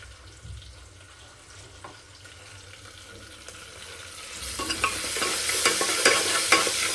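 Ginger garlic paste being stirred into dal khichdi in a pan, a faint scraping that swells into a louder sizzle and clatter of stirring over the last few seconds, with no one speaking.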